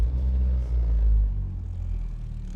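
A Ford Focus SE sits idling, its engine giving a steady, loud low rumble that holds through the whole stretch with only slight swells and no voices over it.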